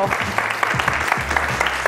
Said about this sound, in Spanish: Venga, un aplauso para Santiago.